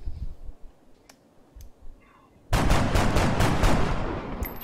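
In XCOM: Enemy Within, a shot fired that misses its target erupts as a loud, sustained burst of rapid gunfire after a quiet stretch of faint clicks and ticks.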